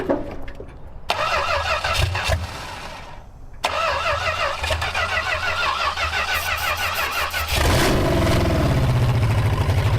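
A run-down Chrysler car fitted with junkyard parts cranks over with a loud, rapid starter churn in bursts, then catches and settles into a running engine near the end.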